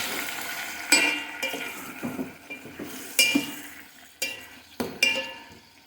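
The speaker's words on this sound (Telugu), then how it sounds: "బాగా కలిపేద్దాం. శుభ్రంగా కలిపేసేసి కొంచెం నూనెలో ఇది కూడా వేగాలి." Ingredients being stirred in a little oil in a pan for a vegetarian version of fish pulusu curry, with irregular scraping clinks of a spoon against the metal pan at close range, no talk.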